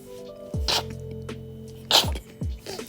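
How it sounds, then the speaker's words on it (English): A couple of loud, close sneezes with sharp bursts, spaced apart, over low background hum; a third softer sneeze-like sound follows. "give me a second, I need to sneeze."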